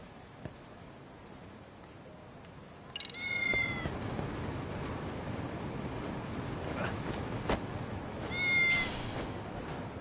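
Cat meowing in the video game Lost Judgment, two clear meows a few seconds apart over a quiet game ambience, with no speech.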